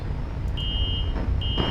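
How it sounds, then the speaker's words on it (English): A video game alarm in Five Nights at Sonic's sounds as two high electronic beep tones, the first about half a second long and the second starting just before the end, over a low rumbling background. "so I played the alarm"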